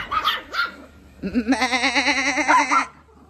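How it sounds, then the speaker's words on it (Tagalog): Small Shih Tzu dogs in a yard squabble, with short sharp yaps early and then a longer high whining, bleat-like vocal run up close, and no talk. "Ano may aso rin dito? Ang cute. Shih Tzu."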